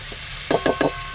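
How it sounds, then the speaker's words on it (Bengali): Spiced potatoes frying in a hot pan for a river-fish curry, with three quick bursts of sizzle in even succession over a soft background hiss, close and fairly loud. "এবার পরিমাণ মতো জল দেব।"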